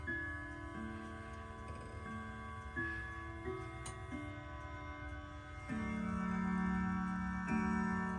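A Westminster chime wall clock ticks steadily and quietly at close range, its even tick-tock running throughout over a soft background hum with faint tonal ringing.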